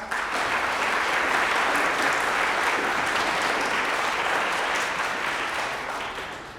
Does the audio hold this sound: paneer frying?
no